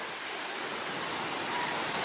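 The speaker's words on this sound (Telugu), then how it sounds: "వచ్చేసామండి వాటర్ ఫాల్స్ కి." A waterfall in Araku Valley gives a steady, dense rush of falling water, close and continuous, with no voices over it.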